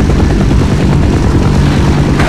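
A helicopter in the video game Half-Life, its rotor chop loud and close, a steady thumping pulse with a heavy engine drone throughout, no voices.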